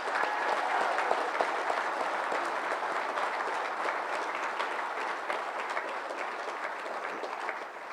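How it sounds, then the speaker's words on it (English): A large graduation ceremony audience applauds in a sustained, even wash of clapping that carries on steadily for several seconds, full and moderately distant. "please, round of applause."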